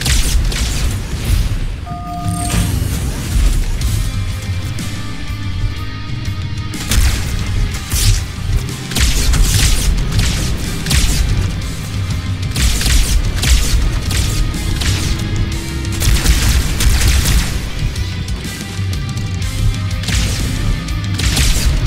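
Fuel rod cannon blasts and heavy explosions in the Halo 2 Anniversary campaign, repeated loud booms and crashes over continuous battle noise and mechanical clatter for the whole stretch.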